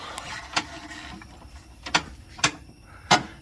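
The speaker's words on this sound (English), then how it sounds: "then you'll just take it and start cranking it counterclockwise, like so." A spare tire winch on a Ford E250 van is cranked counterclockwise to lower the tire, giving a few sharp, separate ratcheting clicks at irregular intervals, close and fairly quiet.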